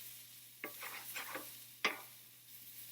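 Chopped onion sizzling in a hot pan for vegetable fried rice, with a crackling fry under repeated scraping stirs of a utensil against the pan, two sharper knocks standing out; no speech.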